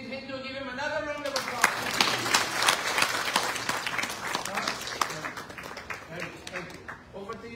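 An audience gives a round of applause for the Attorney General at a community gathering, scattered, uneven clapping that builds and lingers for several seconds, with some talk mixed in.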